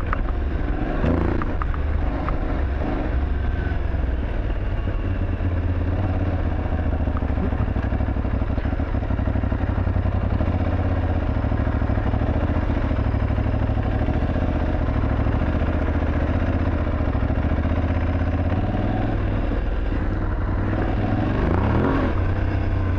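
Aprilia Tuareg 660 motorcycle accelerating off-road with ABS off and the rear wheel slipping, a loud continuous engine roar with revving surges, rattling clatter and wind noise throughout.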